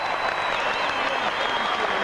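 The home crowd at Headingley applauds a Leeds side after an academy grand final against Wigan, a dense sustained clapping with some crowd noise and a voice audible over it.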